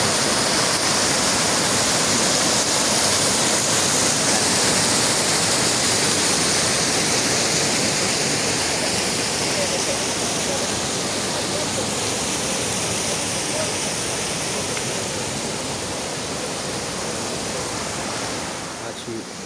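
Clear water of the Duman spring near Livno, at the Bosnia and Herzegovina border with Croatia, rushes in a loud, steady, broadband roar that fills the whole stretch without a break.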